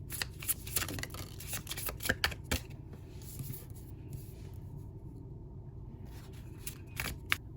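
Tarot cards shuffled by hand in a steady run of crisp, rapid riffling clicks and taps, close and fairly quiet, with no talking.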